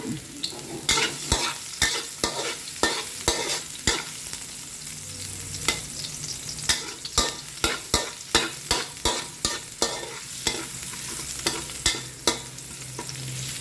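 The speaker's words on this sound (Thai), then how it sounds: "อืมเจียวกระเทียมก่อน ปอกกระเทียมไว้หัวหนึ่งเนี่ย" Peeled garlic being fried and stirred in a pan for a Thai sweet and sour stir-fry, a constant close sizzle punctuated by rapid, regular spatula scrapes and clacks against the metal, with no talking.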